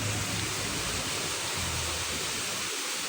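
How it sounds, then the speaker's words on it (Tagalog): A creek running past a village path, heard as a steady broadband wash of flowing water that holds at a constant level for the whole stretch, with faint low rumbles and no talking. "Tapos dyan, may maririnig kang ilog dyan."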